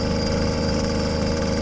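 The small engine of a motorized bike runs at high revs with a steady, buzzy drone, loud and close throughout, with no talking.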